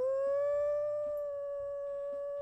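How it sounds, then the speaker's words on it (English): A wolf in the video game WolfQuest gives a single long, smooth, tonal howl that holds steady and slowly fades, clear and close against quiet ambience. "Oh wow, that's a lovely howl."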